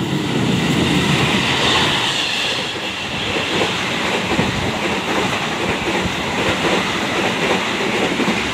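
The Argo Sindoro express train rushes past at high speed with a loud, continuous roar and rattling wheels, sustained throughout.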